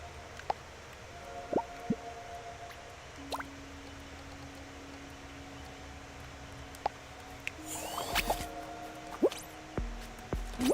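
Slime waterfall in Fortnite Creative: scattered wet drips and squishy plops fall irregularly over a quiet low hum, growing busier and more splashy toward the end, with no talking.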